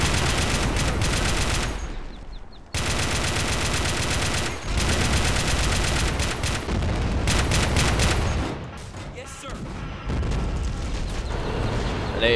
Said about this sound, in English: An AA gun around there.